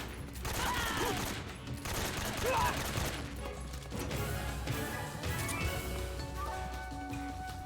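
Shotgun blasts and crashing impacts in Metal Gear Solid 3: Snake Eater, heavy bursts repeating over several seconds amid game noise, with a voice speaking over it.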